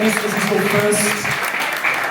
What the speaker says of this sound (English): Give Amy a huge round of applause.